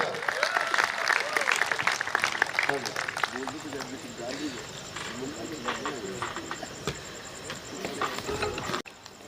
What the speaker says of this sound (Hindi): तो एक बार जोरदार तालियां पारस जी के लिए, जोरदार तालियां।